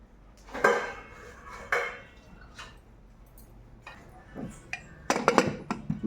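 A cooking pot of dal goes onto the stove, with a few close metallic clanks and scrapes spaced out over quiet pauses and a louder cluster of knocks near the end.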